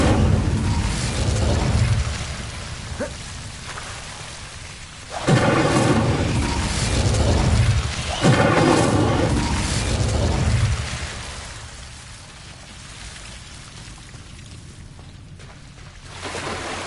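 Incendio fire spell in Hogwarts Legacy, loud bursts of roaring flame whooshing out in several blasts, each a broad rushing roar that swells and fades, close and dominant with no talk.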